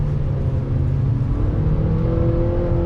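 A 2020 Acura ILX A-Spec pulling back on the gas after braking into a decreasing-radius turn, a steady loud engine drone with a slowly rising pitch, heard from inside the car.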